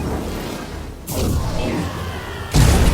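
Big explosion in Mass Effect 2 as a warp power strikes an enemy held in a singularity, a loud boom with a whooshing burst that follows a lower rumble of game combat noise.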